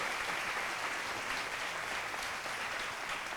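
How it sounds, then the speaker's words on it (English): A triathlon club audience applauds Meb Keflezighi, the 2014 Boston Marathon champion, at a talk. The dense, even clapping is moderately distant and continues steadily throughout. "How about another round of applause for Meb"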